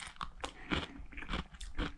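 Close, crisp crunching bite into a homemade pickled spicy green bean, a few quick snaps and chews over about two seconds with no speech.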